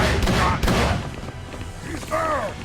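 Gunfire in the video game Call of Cthulhu: Dark Corners of the Earth: a few loud, close shots burst out early, then the noise fades into a rumble while a voice speaks briefly near the end.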